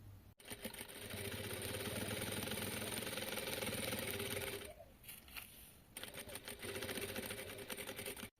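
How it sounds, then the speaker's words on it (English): Sewing machine stitching binding on a rag quilt, a steady close mechanical whir that pauses briefly partway through and then resumes, with no voices. "I bring it over my stitching line, slightly over it, and then I sew here as close to the edge as I can"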